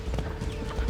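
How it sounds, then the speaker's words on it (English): Horse hooves clip-clopping in a show jumping ring at Horse of the Year, several quick, close thuds in a brisk rhythm over a noisy arena background. "Got our first 2 horses, Emma and Livy, in the ring."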